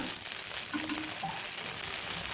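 Ghee sizzles softly around a wheat appam in a pan, making a faint, steady crackle with small bubbling pops.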